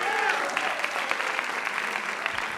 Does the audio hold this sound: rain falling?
no